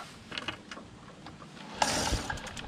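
A 1984 Motobécane 51 moped engine is turned over by hand while on its stand, giving a soft mechanical ratcheting and clicking with uneven compression strokes and a brief sharper thump near the end.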